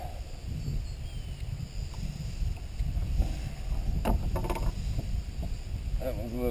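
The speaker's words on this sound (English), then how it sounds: "I'm gonna paddle around, try to find some more fish." A fishing kayak is paddled on an Arkansas pond, with soft water swishes and splashes against steady wind rumble on the microphone, and a few faint knocks and rattles toward the end.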